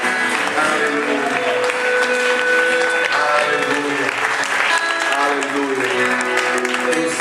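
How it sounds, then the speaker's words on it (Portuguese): A church congregation applauds in praise during a worship service, a continuous sustained clapping over music with voices mixed in, loud and steady throughout. "Se você concorda, aplauda ao Senhor."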